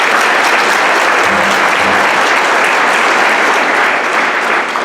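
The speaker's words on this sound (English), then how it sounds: "give her a round of applause" Audience applause at a kindergarten graduation ceremony, a loud, steady wash of clapping from a large crowd that holds at full strength for the whole stretch.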